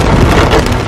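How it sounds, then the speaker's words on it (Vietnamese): Heavy rain drums steadily on a car stuck in a traffic jam at night, a dense, loud, continuous wash of drops with no voices. "Hiện tại là đang kẹt xe và mưa rất là lớn luôn các bạn."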